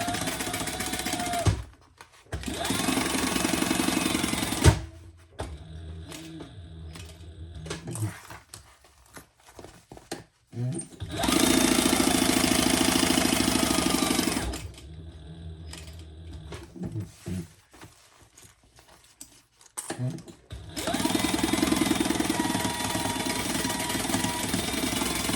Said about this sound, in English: I'm just going to sew it back together. Right side up, fold it over, and stitch it close.